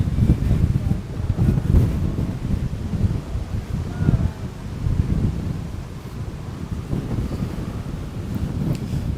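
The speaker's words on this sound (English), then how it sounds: "There's that wind again." Strong gusts batter the microphone on a Miami beachfront street before Hurricane Milton, a constant low roar that swells and fades in waves across the whole stretch.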